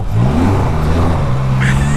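Can-Am Spyder three-wheeled motorcycle revving loudly while ridden close up, its engine note rising and falling steadily over rough ground.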